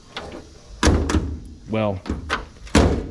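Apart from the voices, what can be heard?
door closing on a 1965 Datsun 320 pickup truck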